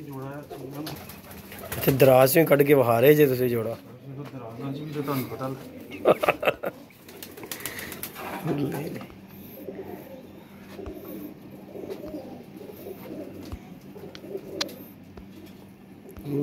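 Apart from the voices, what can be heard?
pigeons cooing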